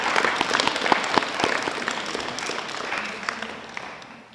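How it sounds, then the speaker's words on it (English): Schoolchildren and the audience clap for parents at a school reading competition final, a dense burst of hand claps that slowly fades across a few seconds. "can we give mom and dads a round of applause"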